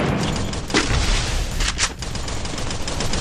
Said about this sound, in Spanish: ¡Nos están disparando de atrás.